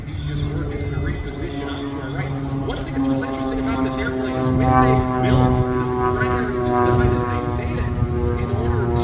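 Jet-powered Waco biplane from RAD Aerosports flying an airshow demonstration at EAA AirVenture Oshkosh, a steady loud turbine roar with shifting tones as it passes, while a commentator talks over it throughout.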